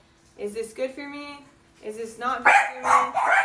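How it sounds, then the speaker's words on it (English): Dogs bark and yip in short bursts in the background of an indoor room, rising louder toward the end while someone talks over them. "You can hear my dogs barking."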